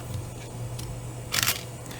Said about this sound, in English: when you go to take a photo, you just hold down the shutter button